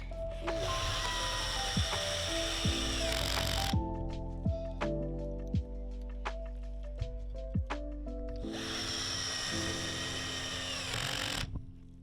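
A power drill drives the last screws into a wooden DIY kicker ramp, with two loud whirring bursts at the start and end separated by a quieter stretch of knocks, clicks and handling.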